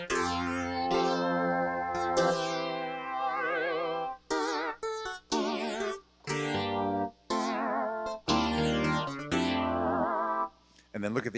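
FM synthesizer patch imitating a keyboard instrument, playing a busy run of bright, harmonically rich notes with warbling vibrato-like pitch wobble, choppy gaps between phrases, loud and close with no talking.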